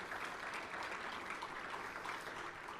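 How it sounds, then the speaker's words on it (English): Steady applause from an audience at a Microsoft tech keynote, a dense unbroken wash of clapping heard from a distance that holds an even level throughout. "Give yourselves another round of applause."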